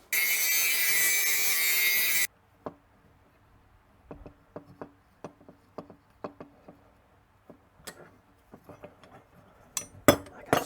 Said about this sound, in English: we'll grind a tiny bit off the bottom